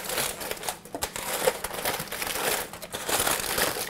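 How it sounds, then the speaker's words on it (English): Aluminum foil lining a slow cooker is folded down and crumpled around seasoned beef. A steady, close, fairly loud crinkling and crushing goes on throughout with no break and no speech. "I did line my slow cooker with aluminum foil, and what I'm going to do is bring that down"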